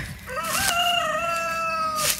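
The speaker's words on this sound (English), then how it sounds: "Chris opened up the chicken coop" A rooster with chickens leaving an opened garden coop crows once in a long, drawn-out call at moderate distance against steady outdoor background noise.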